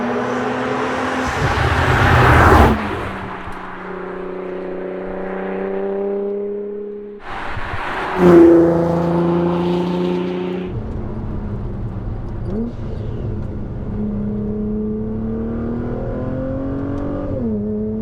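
A Nissan GT-R R35 with nearly 700 horsepower accelerates hard on a wet road in the rain, its loud, close engine climbing through several gear pulls with sharp shifts and a roaring surge in between.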